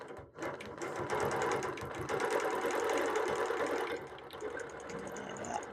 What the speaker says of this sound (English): So let's stitch this one out so you can see what I'm stitching.